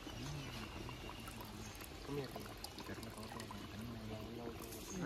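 Water pours and trickles steadily into a container for quail biryani cooked outdoors in a village, while people talk nearby.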